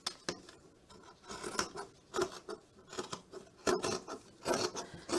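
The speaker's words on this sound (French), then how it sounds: "Donc, je coupe 1 cm en plus," Scissors cut fabric for a cushion cover in a series of crisp snips and rustling strokes at close range, quiet and irregular, with brief pauses between cuts.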